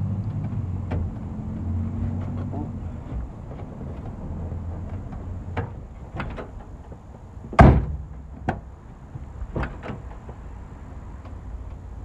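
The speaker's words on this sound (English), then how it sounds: "Then we're gonna close our door." A Mazda Miata car door closes with a single sharp, heavy thunk partway through, followed by smaller knocks and clicks against a quiet workshop background, with a low hum fading early on.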